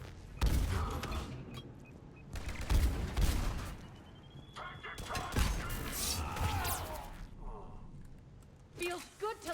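Gunfire from a Mass Effect 3 Legendary Edition firefight, loud bursts of shots and rattling weapon fire crowding the scene, with game voices and sound effects mixed throughout.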